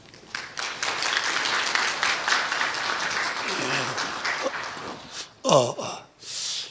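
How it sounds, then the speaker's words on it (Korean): A church congregation claps in a burst of applause lasting several seconds, followed by a few sharp breaths and brief voice sounds close by. "나오셔서 말씀드릴 때 박수로 모시겠습니다."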